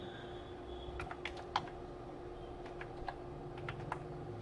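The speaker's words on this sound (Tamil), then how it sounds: "அந்த நம்பரை நீங்கள் டைப் பண்ணிங்க" A number typed on a computer keyboard: faint, scattered key clicks in small clusters over a steady low room hum.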